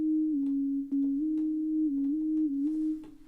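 Synthesizer notes with a lower glide setting give a sustained tone stepping quickly between nearby pitches, with short, quick slides and faint clicks at each change. The line plays alone for about three seconds.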